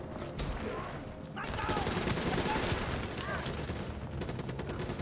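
Sustained bursts of rapid gunfire in Call of Duty Black Ops 3, a dense fusillade with machine-gun rattle swelling after the first second and continuing steadily over a rumbling battle backdrop, with faint voices mixed in.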